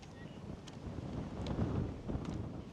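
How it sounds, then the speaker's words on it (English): Gusty wind roars and buffets the microphone at a high school baseball game, swelling and easing in broad rumbling surges with no clear voices. "here goes those wind gusts again"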